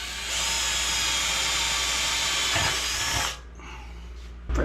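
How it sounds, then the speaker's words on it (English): A power drill whines steadily and loudly as it bores out bad welds on a 1967 Mustang's steel floor pan, running for about three seconds before cutting off, followed by a few faint knocks. "Get to drilling."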